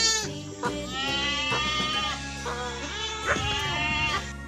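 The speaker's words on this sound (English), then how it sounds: "G for goat" A goat bleats repeatedly in a wavering, quavering series of loud, close calls, with overlapping cries forming a continuous noisy chorus.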